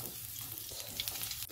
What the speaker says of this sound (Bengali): এবার আমি বেগুনগুলোকেও ভেজে নেব ভালো করে।